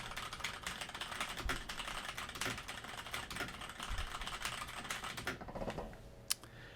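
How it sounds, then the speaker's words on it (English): Steady, rapid clacking from a mechanical keyboard being typed on, continuous and fairly close, ending with a brief pause and a single sharp keystroke near the end. "I will now type on my mechanical keyboard to test how the mic picks up background noise."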